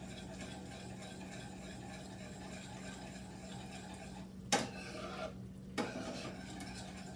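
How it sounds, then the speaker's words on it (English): Marsala sauce and porterhouse steak sauté in a frying pan with a steady, low sizzle and a constant hum. Two sharp utensil clinks against the pan break through near the end. "I really want to saute mine in the frying pan a little bit."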